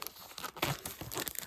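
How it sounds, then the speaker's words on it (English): Thin plastic packaging crinkles and tears open from around a beginner embroidery ring, a close run of short crackling rips and rustles with no talking. "Open up this very unnecessary plastic covered ring."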